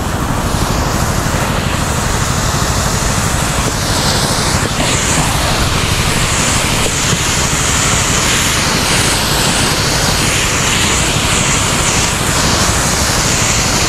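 An engine-powered power sprayer spraying calamansi trees runs loudly and close, a constant droning motor roar mixed with the hiss of spray, unbroken from start to finish.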